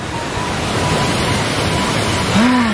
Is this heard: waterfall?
yes